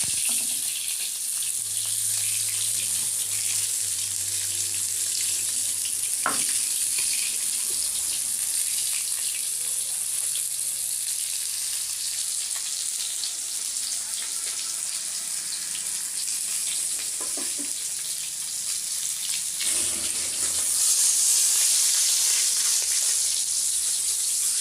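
Ganga fish fries steadily in hot oil, a continuous close sizzle that holds for the whole stretch with a couple of brief clatters and a rise in hiss near the end, no voices.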